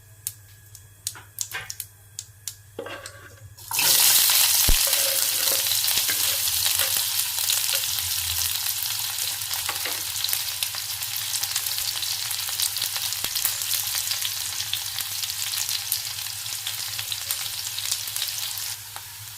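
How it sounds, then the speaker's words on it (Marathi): Cumin crackles briefly before chopped onion and chili drop into hot oil for oats upma, bursting into a loud, sustained sizzle with occasional stirring, and a dog barks faintly in the background. "जिरं तळतळलं की त्यात आपण चिरलेला कांदा आणि मिरची घालूया."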